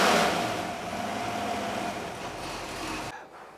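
A freshly built, carburetted 4.6 engine runs at a constant idle on an engine test bed, a close mechanical drone that holds level and then cuts off near the end.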